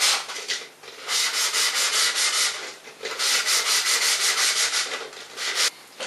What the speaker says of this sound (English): sand about 2 centimeters the shrunken part with some fine sandpaper